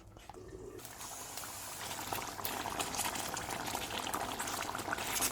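Chettinad dry fish curry with chilli powder and water simmering in a pan, a dense, steady bubbling that grows slightly louder and stays close throughout.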